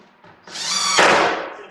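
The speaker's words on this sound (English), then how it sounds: "I'm just going to tack it down with a couple of screws on either end." A power drill drives screws into a blank board, tacking it down before a circular stair part is cut; one short, loud whirring burst swells and fades, with no voices.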